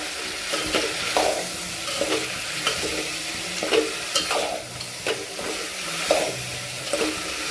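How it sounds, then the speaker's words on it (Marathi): Drumstick pods for a dry vegetable dish are stirred with salt in a pan, giving soft rhythmic scrapes and rustles over a low, steady sizzle. No one speaks. "मीठ टाकल्यानंतर याला छान मिक्स करून घ्यायचं"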